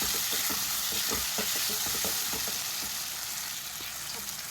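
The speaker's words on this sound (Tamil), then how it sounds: "தக்காளி ஆட் பண்ணி நல்லா மிக்ஸ் பண்ணி கொடுத்துருங்க வதங்கட்டும்" Chopped tomatoes sizzle and fry in a pan for a gravy with capsicum and egg, with a steady hiss and irregular scraping stir strokes throughout, fairly loud and with no talk.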